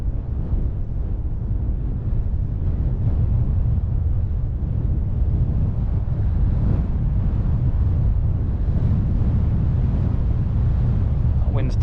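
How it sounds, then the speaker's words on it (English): Strong wind blowing on an exposed gritstone edge near climbing rocks around Burbage Edge, a steady loud roar buffeting the microphone without letup. "Wind's turned a bit cold up here"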